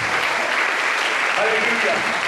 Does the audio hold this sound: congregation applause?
yes